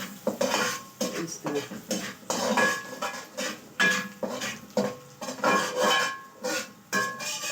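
Semolina slowly roasting for milk halwa, stirred in a pan over a low flame, with repeated scraping and clinking of a spoon against the pan in steady bursts, close up, with a brief voice in between.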